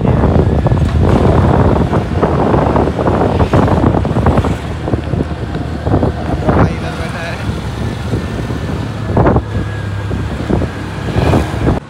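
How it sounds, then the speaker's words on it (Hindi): Heavy wind buffeting roars into the microphone during a motorbike ride, a loud, continuous rush with gusty surges and some faint talk underneath. "राजवन अपना बाइक चला रहा है"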